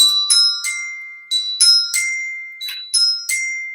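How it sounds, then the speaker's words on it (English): Bells are struck one after another at different pitches, each bright ringing strike decaying quickly before the next. "we have our high bell, medium bell, low bell."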